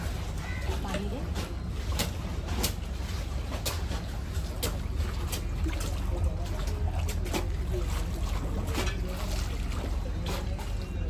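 Houseboat cruising on the Kerala backwaters, a low steady engine drone and water wash with birds chirping around it, while people talk nearby.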